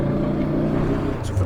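A Honda CB500 motorcycle engine pulling at low revs while ridden through town, a steady close droning hum with a slight rise near the end, no voices over it.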